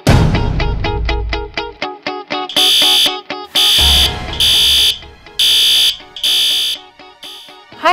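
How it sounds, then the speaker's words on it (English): A loud kitchen alarm blares close by in harsh repeated bursts, starting with rapid pulses and then settling into a steady on-off pattern of long electronic tones. "I just received an alarm from your kitchen."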